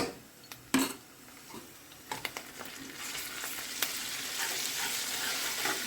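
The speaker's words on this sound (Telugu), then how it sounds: "లైట్గా సాజీరా, దాల్చిన చెక్క ఇవన్నీ కూడా వేసి, ఇంకా పచ్చిమిర్చి, ఉల్లిగడ్డ ఇవి కూడా వేసి అల్లం వెల్లుల్లి పేస్ట్ వేద్దాం" Cumin, cinnamon, green chilies, onions and ginger garlic paste frying in a pan, a soft steady sizzle building through the clip with a few sharp clinks and scrapes of a spoon against the metal, no voices.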